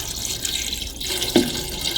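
Water is poured into a pot of chicken feet, a continuous hissing pour with a brief louder splash near the end.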